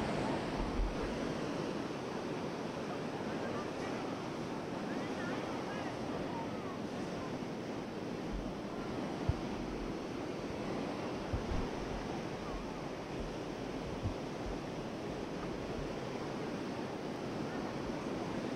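Hukou Waterfall in winter thunders with a steady, unbroken roar and rushing wind, a continuous wash of falling water heard from a crowded, fenced viewing spot.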